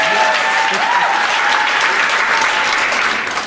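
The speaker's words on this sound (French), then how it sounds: "On l'applaudit." Steady, dense audience applause for a regional jury member at a music event, loud and sustained throughout, with a few voices mixed in and a slight fade at the end.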